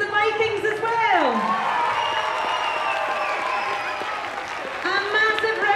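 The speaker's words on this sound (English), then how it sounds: "Can we give a big round of applause to the Romans, the Saxons and the Vikings as well?" An audience applauds and cheers at a primary school interhouse music competition. Steady clapping from a crowd runs throughout, under a voice talking over it and a bright synth or tonal sound sweeping at the start and end.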